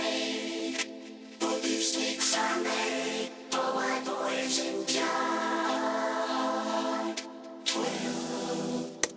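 Background vocals resynthesized with Ovox and auto-tuned, forming dense, buzzy, choir-like sustained harmonies with a few abrupt cuts and gaps, heard alone in a studio production.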